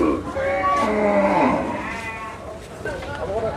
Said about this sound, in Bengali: এখানে বিশাল বিশাল গরু আছে।